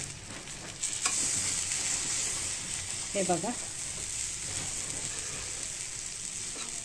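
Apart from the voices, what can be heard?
tilapia fish frying in a pan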